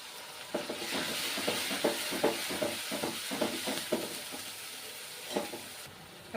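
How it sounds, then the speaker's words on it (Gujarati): Onion gravy sizzling and frying in a pan while being stirred for a bottle gourd paneer kofta curry, a steady close hiss broken by a regular series of scraping stirs, with no voices. "ત્યારબાદ ડુંગળીની ગ્રેવી એડ કરીશું"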